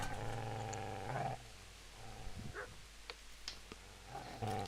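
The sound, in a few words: dog growling in video game Kingdom Come: Deliverance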